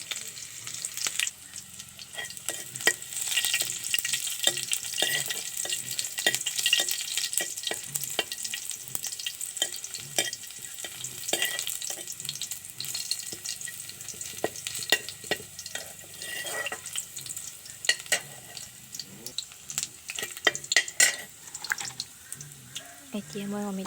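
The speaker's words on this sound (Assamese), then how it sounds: "দি দিছোঁ এতিয়া পিঁয়াজ আৰু নহৰু।" Onion and garlic sizzle and fry in a hot pan for an Assamese pitika dish, with steady hissing broken by repeated scraping stirs throughout.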